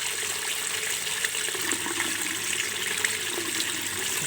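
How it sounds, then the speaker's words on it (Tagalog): Water splashes and rushes steadily as it is changed in a tank of catfish fingerlings, a continuous close pouring sound with small bubbly crackles and no talk. "Kaya ngayon magpapalit tayo ng tubig."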